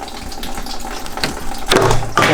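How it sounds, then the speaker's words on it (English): Antifreeze drains from the radiator of a 1998 Jeep TJ, a steady close trickle and splash of liquid with a few clinks, the flow growing louder and fuller near the end. "I got the antifreeze draining"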